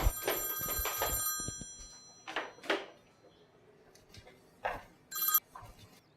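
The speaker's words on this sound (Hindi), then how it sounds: "साहब जी आपका फोन आ रहा है।" A telephone bell rings in two bursts of trilling, followed by quieter clicks and knocks nearby.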